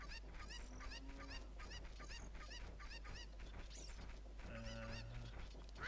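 Cucco chickens in The Legend of Zelda (Majora's Mask), with repeated honking, squawking clucks over a busy bed of game music and effects, moderately loud throughout.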